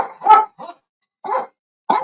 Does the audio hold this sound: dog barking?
yes